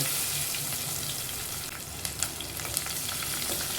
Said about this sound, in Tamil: கொஞ்சம் வெந்தயம் கொஞ்சமாக சோம்பு நல்லா பொறிஞ்சிடுச்சு கொஞ்சமாக கருவேப்பிலை சேர்த்துக்கோங்க